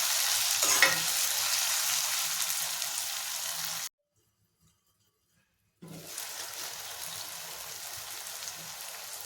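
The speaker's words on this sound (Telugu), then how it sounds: "మూత పెట్టుకుని ఒక 2 నిమిషాలు ఇలాగ వేపించుకుందాం." Onions frying in a covered pan give a steady hissing sizzle that drops to near silence for about two seconds, then resumes at the same level.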